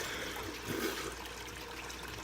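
Water from a sink spray nozzle hisses in a steady, faint, broad rush, with a brief swell of splashing partway through as it hits a face.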